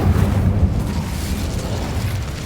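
An Incendio fire spell in the Hogwarts Legacy video game erupts with a deep, rumbling whoosh of flame, loudest at the start and then settling into a sustained roaring burn that slowly fades.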